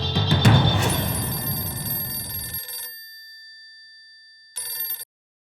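A telephone rings while a call is placed to a palace: a loud electronic ring sounds, trails off, then a second brief ring follows after a pause, with no talk.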